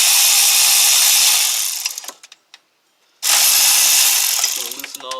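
A 10 mm ratchet loosens the water pump bolts on a 2010 Cadillac CTS 3.0L, giving a dense, close run of clicking that stops briefly and then resumes.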